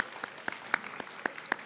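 Audience applause for a spoken word poet at a grade 9 and 10 poetry event, a short burst of scattered clapping with distinct individual claps, moderately close, no talking.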